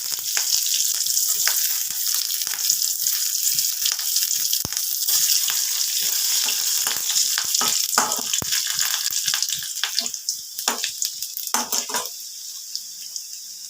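Chopped garlic fries in oil after a dried red chilli, producing a loud, dense crackling sizzle with rapid pops that runs steadily and thins slightly toward the end, with no voices.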